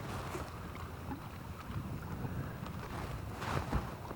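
Steady wind blows across a small fishing boat during redfish fly fishing near Charleston, a constant rushing roar with light water slaps against the hull and no talk.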